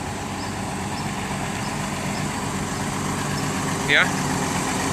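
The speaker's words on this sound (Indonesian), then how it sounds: "Ini masih halus ini mesinnya teman-teman" The diesel engine of an ALS intercity bus idles steadily with a low, even rumble, while someone talks over it and gives a brief word near the end.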